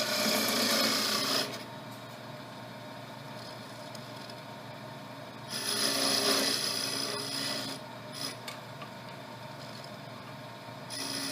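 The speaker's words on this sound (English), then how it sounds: "This is what I can consider the parting tool, a diamond shaped parting tool." A diamond-shaped parting tool cuts wood on a lathe while turning a bell-shaped Christmas ornament, giving a steady raspy scraping hiss that swells louder in bursts and then settles into a softer continuous rub.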